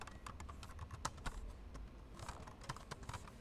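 Rapid clicking keystrokes on a computer keyboard while HTML and CSS code is entered for a web page header, steady close typing with small bursts and brief pauses, no speech.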